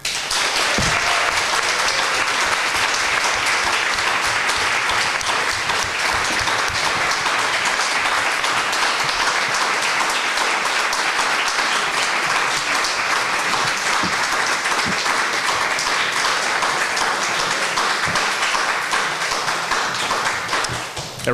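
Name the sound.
audience applause at a candidates forum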